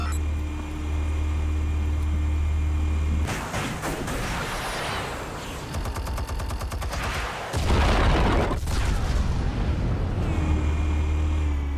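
Explosives detonating in the Batman Telltale game, a series of rapid crackling blasts and rattling bursts over a low rumbling hum, building to a heavier surge near the end.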